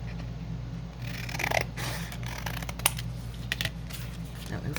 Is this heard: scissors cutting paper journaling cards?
yes